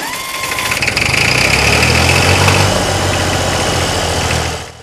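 A vintage tractor engine idles at a technology museum's classic vehicle meet, a loud, close, steady low rumble with a faint whine that drops away in the final moment.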